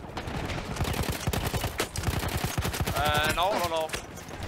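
Rapid gunfire from Battlefield 1 rattles in dense bursts up close, with a voice calling out briefly near the end over the shooting.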